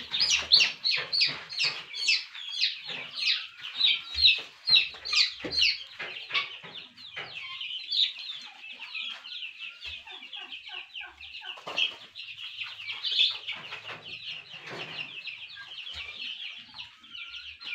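Turkey poults on a farm in Assam cheep and peep in a dense, continuous chorus of high, rapid calls, close and fairly loud, with no talking.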